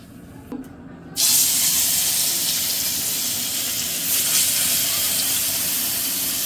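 Cooking oil hits a hot wok (kadai) on the stove and bursts into a loud, sustained sizzle that starts abruptly after a brief quiet moment and continues steadily.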